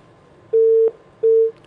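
A telephone busy tone sounds after a call drops during a live television phone-in. There are two loud, even beeps of steady pitch, each about a third of a second long, with a short silence between them.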